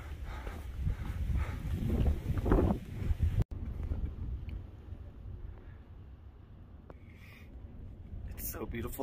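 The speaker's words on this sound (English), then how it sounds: "it's also extremely cold and extremely windy" Strong cold wind buffets the microphone high on a mountain along the Pacific Crest Trail, a loud rumbling roar that drops off abruptly and then continues as lighter gusty noise, with a voice speaking over it.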